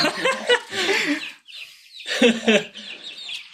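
Hens cluck close by while chicks keep up a steady high peeping, two dense bursts of farmyard chatter separated by a short lull.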